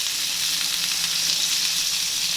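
Garlic and onion fry in a pan for kinamatisang pork with malunggay, making an even, bright sizzle that stays steady and close for the whole moment, with no voices.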